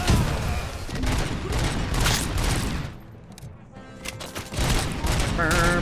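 Gunfire in the video game Robocop Rogue City, dense overlapping bursts of shots and booms filling most of the stretch, with a brief lull midway before the firing picks up again, under occasional talk.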